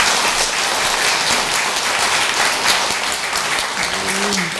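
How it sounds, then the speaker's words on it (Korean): Audience applause at a Buddhist dharma assembly, steady dense clapping from a seated crowd in a temple hall, sustained throughout with a faint tonal voice or hum near the end. "박수 한번 부탁합니다."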